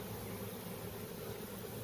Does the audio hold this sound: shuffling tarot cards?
no